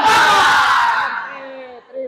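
Schoolchildren shouting the tepuk semangat spirit chant together, a loud burst of massed young voices that fades within a second, followed by a few trailing calls.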